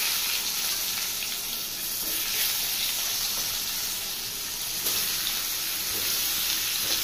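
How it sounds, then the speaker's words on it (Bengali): Pointed gourd (potol) rubbed with salt and turmeric frying in hot oil, a steady, fairly loud hissing sizzle that continues without a break, with no talking. "এখানে তেলটা গরম হয়ে গেছে, এবার আমি এখানে পটলগুলো নুন হলুদ মাখিয়ে নিয়েছি"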